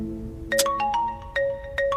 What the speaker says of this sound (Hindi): अरे मेरी घरवाली का फोन आ रहा है